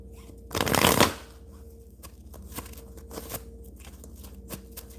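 A quick riffle of tarot cards being shuffled, loud and close, followed by softer taps and light card handling.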